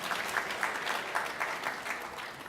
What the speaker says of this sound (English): It's worth a clap, isn't it?